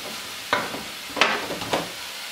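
Browned chicken pieces in a pan give a soft sizzle broken by three or four sharp stirring or scraping bursts, close and without speech.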